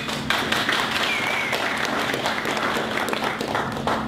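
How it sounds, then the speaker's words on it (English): An audience at a conference session gives a steady round of applause, scattered claps and taps blending into an even, moderately loud patter lasting several seconds. "So let's give them a big round of applause."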